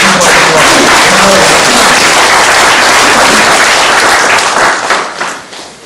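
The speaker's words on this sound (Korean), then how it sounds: "박수 한번 보내주시죠" A lecture audience at a forum and office opening breaks into loud, dense applause, close and sustained for several seconds before tapering off at the end.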